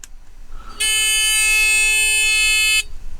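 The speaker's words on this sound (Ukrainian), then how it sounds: "Бачите, он пішов сигнал, все працює." A solar-powered ground repeller sounds one loud, sustained buzzing beep lasting about two seconds, close by against a quiet background.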